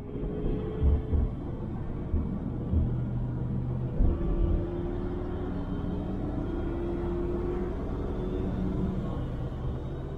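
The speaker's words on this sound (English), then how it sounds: "You just mash your foot to the floor, and the car makes a ton of noise" Steady low engine rumble of a 1963 Ford Thunderbird under full acceleration, droning continuously with a few heavier low thumps, fairly loud and constant throughout.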